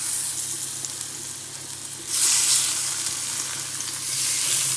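Pork fillet with paprika and thyme sizzles in a hot pan, a steady frying hiss that surges louder halfway through as more meat goes in, close and continuous with no voices.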